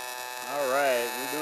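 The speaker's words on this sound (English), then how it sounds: "It's the grinder. I'm going to just clean this." An electric grinder running on a snowmobile skid rail while cleaning metal, a steady close whine that rises and dips slightly in pitch as it bears on the workpiece.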